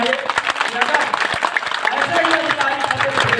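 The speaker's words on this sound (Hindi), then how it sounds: "हम पुनः एक बार उनका जोरदार तालियों से स्वागत करना चाहेंगे" Applause from a crowd at a protest sit-in welcoming an arriving official, a steady dense clatter of clapping with voices mixed in throughout.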